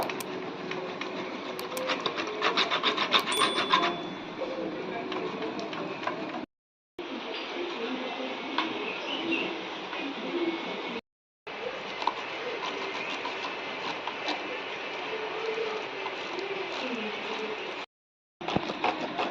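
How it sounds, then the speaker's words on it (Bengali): Ripe peeled mangoes rubbed against a grater for mango leather, a steady rasping scrape that runs continuously with a few brief pauses between passes. "আমগুলো আমরা এবার ভালো করে গ্রেটারের সাহায্যে ঘষে নেব।"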